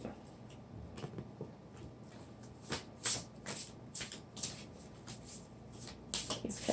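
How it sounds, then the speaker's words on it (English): Tarot cards being shuffled by hand, a series of soft riffling bursts and crisp card flutters at irregular intervals, fairly quiet and close. "These cards are a little awkward to shuffle."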